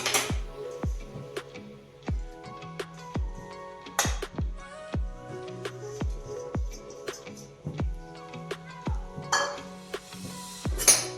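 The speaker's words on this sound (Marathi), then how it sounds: "सगळ्यात पहिले मी खोबरं तळून घेते" Coconut fries in melted ghee in a pan for puran poli, with a utensil repeatedly clinking and scraping against the pan in an even rhythm over a faint sizzle and soft tonal hum.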